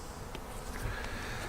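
Honeybees buzz faintly in a bee yard, a soft, continuous insect hum with small flickers of wingbeats, quiet and alone.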